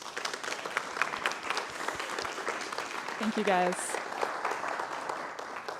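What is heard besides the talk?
round of applause from audience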